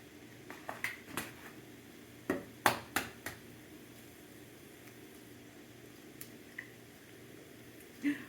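Eggs cracked and set cooking, a cluster of sharp crisp taps and cracks in quick succession, then quieter sparse clicks over a soft steady background hiss.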